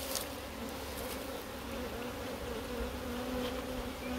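Honey bees buzz densely around an open beehive during a hive split, a steady close droning hum with individual bees whining past.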